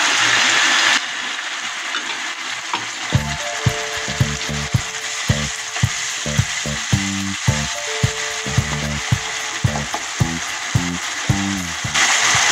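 Tomato paste sizzles in a pan with onion and ginger, a steady loud frying hiss broken by rapid, rhythmic spatula clanks and scrapes against the pan, close by and with no talking.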